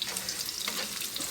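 Garlic roasts in a pan while cooking pakbet, giving a steady, close, hissing sizzle that holds constant through the short moment.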